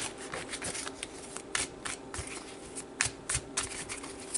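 Sexual Magic Tarot cards shuffled close by in a steady run of soft papery riffs and rustles, with sharper bursts of flicking cards every half second or so.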